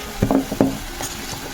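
Turmeric tipped into hot oil for Kolhapuri misal gravy gives two short bursts of stirring and frying scrapes in the pan, then settles into a low, steady sizzle.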